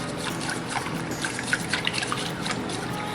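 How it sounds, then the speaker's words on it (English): Wet, sticky stirring of pie filling after sugar and a little flour go in, for a Pennsylvania Dutch Montgomery pie: soft continuous squelching and scraping in a bowl, close and fairly quiet, with no talking. "Give that a good stir."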